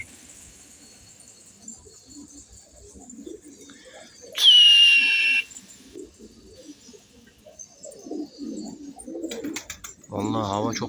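Pigeons from a flock of about 70 male pigeons coo softly in low, murmuring calls, with a brief sharp whistle and some rustling partway through.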